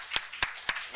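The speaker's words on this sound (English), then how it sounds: "Can we just give them a round of applause?" A few sharp, widely spaced claps from the audience at a global policy summit, saluting a panel of leaders, with about four distinct slaps in one second and soft murmuring between them.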